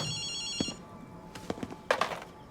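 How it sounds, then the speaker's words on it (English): A telephone ringing in the video game Ghostwire: Tokyo, a brief electronic bell-like tone followed by a few soft thumps and clicks, fairly quiet with no talking over it. "It's kind of hard to hear the phone when the music's playing."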